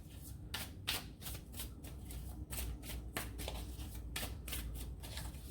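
Tarot cards being shuffled by hand close up, a rapid series of crisp riffling bursts and soft card slaps repeating steadily without a break.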